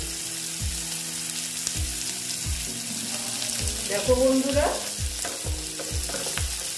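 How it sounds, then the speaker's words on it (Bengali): Spiny gourd (kankrol) slices sizzling steadily as they fry in a pan, with a regular scraping tick of stirring throughout and a short spoken phrase over the top. "আর একটু ভাজা হবে, একটু ভাজা হলেই আমি এটা নামিয়ে দেবো।"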